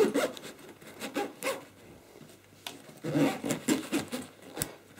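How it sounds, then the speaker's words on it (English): The zip on a laptop bag is drawn closed around a Gigabyte P35W V2 laptop, heard as a run of close, rhythmic rasping pulls, first one stretch, then a pause, then a longer busier stretch. "so let's put the zips over."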